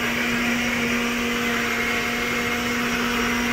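A kitchen blender runs steadily, blending a green vegetable shake with pineapple and bitter greens; a continuous motor whine with a strong hum holds at even loudness throughout, alone and close.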